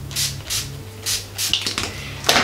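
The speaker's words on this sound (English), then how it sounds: "I'm going to be taking this NYX Matte Fine and Fine Matte Long Lasting Setting Spray" Several short hissing bursts of NYX Matte Finish long-lasting setting spray, spritzed lightly in a makeup routine, sounding close and soft with quiet handling noise between them.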